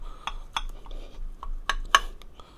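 A knife cuts butter swim biscuits in a pan with several light, sharp clinks and scrapes of metal on metal, quiet and spaced apart, with no other sound present.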